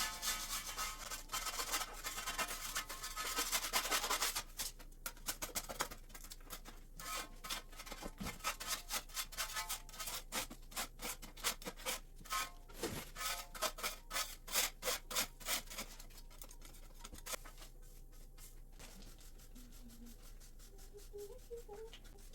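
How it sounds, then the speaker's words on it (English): A handheld scraper rasps across a grimy kitchen surface in a neglected, mouse-infested house, giving continuous close scraping and rubbing strokes with a rough texture and short breaks. "But I use my scraper first because if I can scrape up some stuff and I can sweep down"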